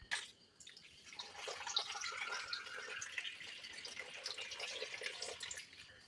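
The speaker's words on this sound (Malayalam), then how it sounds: "അതിലേക്ക് ഒരു കപ്പ് വെള്ളം ഒഴിക്കുക." Water is poured from a cup into salted rice flour for puttu, a faint continuous trickling and splashing stream that runs for several seconds after a brief start.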